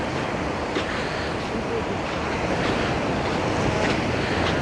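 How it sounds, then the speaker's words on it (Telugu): Calm sea surf at Pegasus Reef Beach Resort in Colombo, Sri Lanka, heard as a steady, even wash of water and wind noise with no distinct breaking waves. "అలలు అయితే చాలా తక్కువ ఉన్నాయి"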